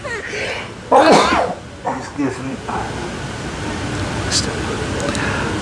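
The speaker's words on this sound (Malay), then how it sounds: "nak bersin." A single sharp sneeze bursts out close by, followed by a couple of softer throat sounds against steady room noise.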